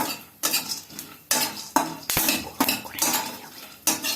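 Melon seeds stirred briefly in a dry pan, with loud, close bursts of a metal spoon scraping and clinking against the pan in irregular strokes, with faint rattling of seeds between them.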